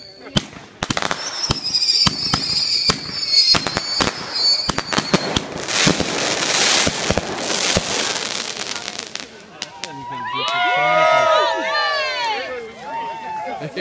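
Fireworks set off in a backyard crackle and bang in rapid, loud bursts, followed by whistling, squealing sounds near the end, with people shouting nearby.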